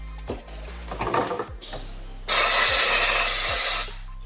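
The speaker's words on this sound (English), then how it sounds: "once I get all the fuel lines off, I just usually blow them out" Compressed air blasting through fuel lines removed from an alcohol-fueled engine's fuel system, a loud steady hiss that starts abruptly midway and holds for over a second before cutting off, preceded by shorter bursts.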